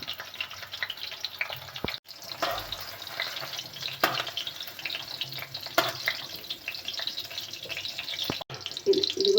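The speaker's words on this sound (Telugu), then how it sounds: "కొద్దిగా వేసి వేపుతూ ఉండాలి మంచిగా." Pieces of bitter gourd fry in oil, giving a steady broad sizzle with scraping stirs and a few clinks, close and moderately loud with no talk.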